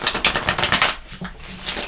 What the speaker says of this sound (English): I feel like giving it another shuffle